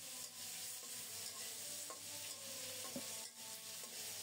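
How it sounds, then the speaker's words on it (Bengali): Fish pieces and potatoes fry in hot oil in a wok, giving a steady close sizzle with occasional stirring scrapes and clinks, and no voices. "মাছও ভাজা হবে, আলুও ভাজা হয়ে যাবে।"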